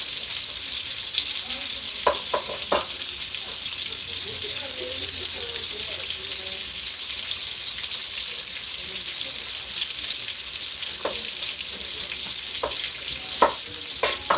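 Chopped onions for broccoli and cheese soup frying in a pan, a steady sizzle running throughout with scattered spoon scrapes and clicks of stirring, close and moderately loud, with occasional faint voices in the background.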